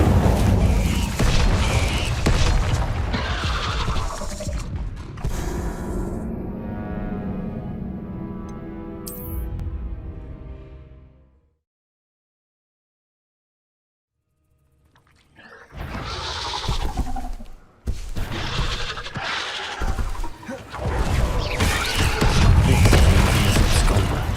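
Incendio fire spell cast in Hogwarts Legacy, dense roaring bursts of flame and booms at the start, then a fading tonal rumble, a few seconds of full silence, and another loud stretch of fiery crackling blasts.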